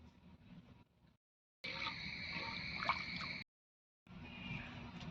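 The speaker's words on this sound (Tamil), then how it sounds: "இப்போ நல்லா கொதிக்குது" Herbal rasam soup with salt and turmeric boiling in a pot, soft bubbling and popping with gurgling liquid, heard in short bursts broken by brief silent gaps.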